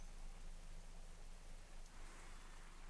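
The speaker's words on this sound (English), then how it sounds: "I hate when there's heavy rain in game." Heavy in-game rain from World of Warcraft pours as a constant broadband hiss, moderately quiet and unbroken, with no talking over it.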